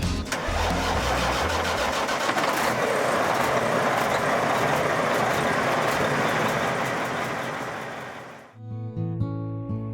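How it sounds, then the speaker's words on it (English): A Western Star 6900 truck engine cranks and starts, then runs loud and rough, with heavy diesel noise filling most of the stretch before fading, followed by a brief tonal music sting at the end. "as Alistair Roberts climbed into his 6900 Western Star and turned the key."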